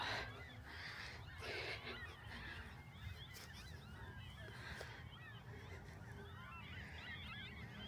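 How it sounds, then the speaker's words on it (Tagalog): Many birds returning from migration honk and call at once from a distance at Glenmore Park, Canada, a continuous overlapping chorus of goose-like cries with no talking. "Kaya may mga ibon, ang dami."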